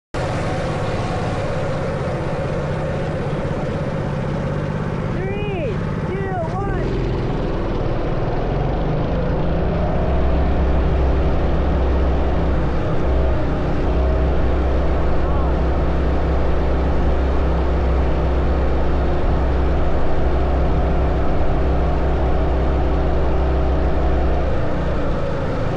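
Coleman mini bike engines run together in a drag race, a steady loud buzzing drone that holds for the whole stretch while pitch shifts appear early and later settle into a constant roar.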